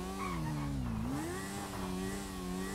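A car engine revving in Grand Theft Auto V, a steady mid-pitched drone that rises and dips in pitch as the throttle changes, loud and continuous with no voices.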